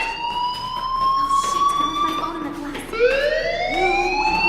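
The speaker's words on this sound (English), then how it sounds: "do you hear that fire alarm? That means you should be outside." Fire alarm in the Life Is Strange video game, a loud wailing siren that sweeps upward in long rising tones and restarts partway through, alone in the foreground.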